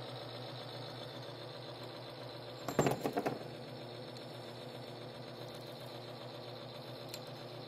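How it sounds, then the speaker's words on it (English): Timken bearing test machine running with a steady mechanical hum and whine, a short cluster of loud clattering knocks partway through, otherwise constant and moderately close. "We're going to turn the machine back on."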